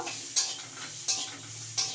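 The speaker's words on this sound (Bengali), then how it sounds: "একটুখানি আমি কড়াই নাড়াছাড়া করে নেব" Green mango pieces stirred in a wok with salt and turmeric, a soft steady sizzle broken by three sharp scraping strokes of the spatula at even intervals, close and clear with no voices.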